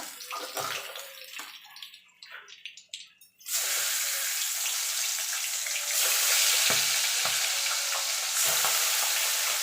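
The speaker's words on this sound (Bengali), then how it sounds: "এইভাবে আমি বাকি মাছগুলো ভেজে নেব।" Pabda fish frying in oil, with a loud, dense, continuous sizzle that jumps up sharply partway through as more fish hit the pan, after some quieter clinks and stirring at the start.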